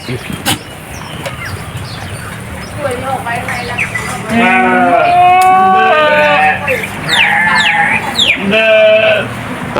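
A farm goat bleats loudly several times in a row, wavering cries that overlap over a steady rural background hum, with a quieter stretch at the start.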